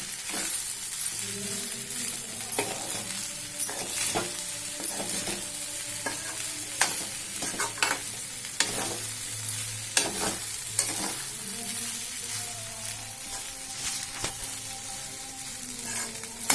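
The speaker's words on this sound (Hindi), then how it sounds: "अब इसे हम अच्छे से मिक्स कर लेते हैं, जिससे सारी चीज़ें अच्छे से मिक्स हो जाए।" Vegetable fried rice being stirred and tossed in a frying pan, with a continuous sizzle, scraping strokes and occasional clinks of the utensil against the pan, close and busy throughout.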